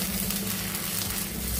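One and a half tablespoons of ginger garlic paste fry in hot oil in a pan, giving a dense, steady, close-up sizzle that stays loud and even throughout.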